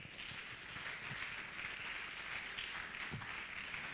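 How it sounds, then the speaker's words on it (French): A congregation at a church service applauds steadily throughout, the clapping forming a continuous, moderately loud wash with a few louder claps standing out. "Applaudissez Jésus."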